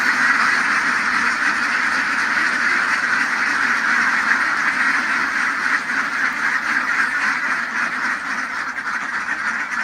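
A large flock of around 400 ducks on a free-range egg farm in open fields quacks continuously, a dense, loud, unbroken chorus lasting the whole stretch with no talking.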